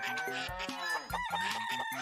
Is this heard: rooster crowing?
yes